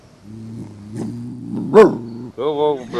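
A dog, coaxed to speak, gives a few drawn-out yowling, howl-like vocalizations up close, one sharper yelp in the middle, against a quiet background.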